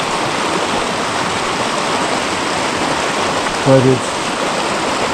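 A silty stream on a Pacific Crest Trail hike flows with a steady, broadband rush that carries on without a break, and a voice speaks briefly over it near the end.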